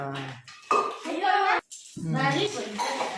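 A steel pressure cooker and glasses clink and clatter while people talk over the handling, with a sharp clank near the middle.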